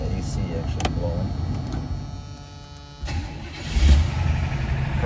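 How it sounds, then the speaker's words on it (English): A 1976 Buick Regal engine cold-starting, with a short cranking burst swelling into a loud, close rumble near the end of the few seconds, while a voice talks over the car's interior noise. "Car fires right up."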